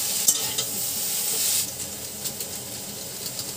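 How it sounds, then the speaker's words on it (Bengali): Eggplant frying in a generous amount of oil, a steady close sizzle with stirring scrapes; the hiss is loudest early, then settles into a lighter crackle with a few sharp ticks, and no one speaks. "তেলটাও হতে থাকবে, ওদিকে বেগুনটাও ভাজা হয়ে যাবে।"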